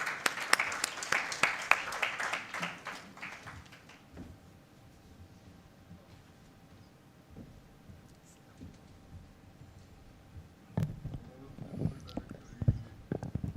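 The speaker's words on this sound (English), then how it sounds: "A round of applause." Applause from an audience at a book launch event, a burst of dense clapping for the first few seconds that fades into scattered claps and room noise, followed by a few louder thumps and handling sounds later.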